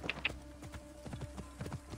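Horse hooves clip-clop at a steady trotting rhythm in Assassin's Creed Origins, a run of close, even knocks over a low rumbling game backdrop, with no one speaking.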